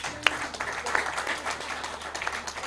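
An audience applauding after a presentation at a curriculum development workshop, steady scattered clapping from a moderate-sized crowd in a hall, fairly even and continuous throughout.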